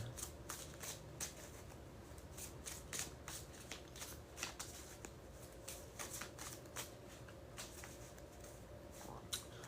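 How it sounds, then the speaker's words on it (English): Cards being shuffled repeatedly, a continuous riffling and flicking with quick bursts, close by and fairly quiet, with no voices. "we're going to do 3 more shuffles"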